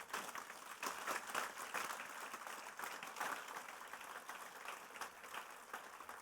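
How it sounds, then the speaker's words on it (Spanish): A church congregation claps together in steady, dense applause, faint and somewhat distant, continuing evenly for several seconds. "Dale un aplauso fuerte a Él."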